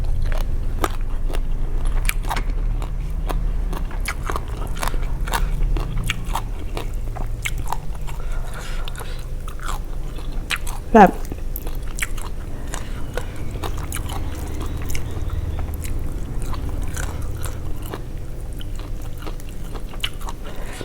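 Soft, close crunching and chewing of grilled frog and grilled fish with fresh vegetables continues steadily over a low ambient hum, with one brief squeak partway through and no speech.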